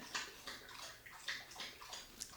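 A pet laps water in a quick, rhythmic series of soft, wet splashes, close and quiet, repeating steadily.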